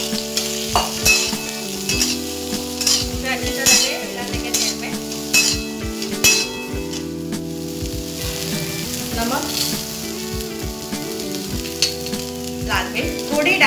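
Chickpeas stir-fry in hot oil in a pan, a steady loud sizzle with repeated scraping and clinking as a spoon stirs them.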